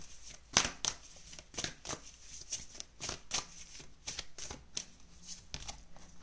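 Tarot cards are shuffled in a quiet room, a string of quick crisp riffles and flicks with short pauses, fairly close, with no one talking.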